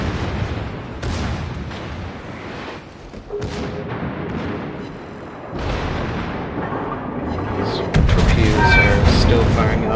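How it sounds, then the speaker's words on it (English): Naval guns firing in a warship battle game, heavy booming salvos and explosions repeating every couple of seconds over rumbling background noise, with someone commentating throughout. "Still firing off at the enemy Pommern, taking their shot with the back tube gun"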